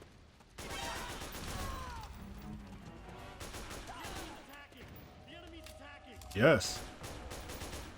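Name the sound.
gunfire from Metal Gear Solid 4 video game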